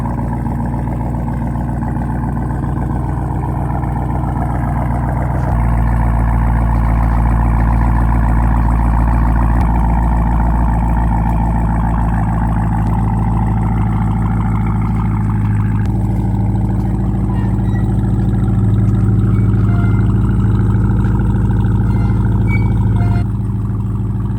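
A 900-horsepower Jeep Trackhawk cold-starts and runs, a loud, close, deep engine rumble that holds steady with small shifts in revs and no talk.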